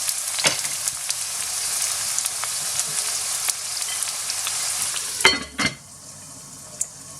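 Onions cook in a covered pan over medium-high heat, giving a steady soft hiss and sizzle throughout, with a couple of brief clatters near the end as the lid or pan shifts.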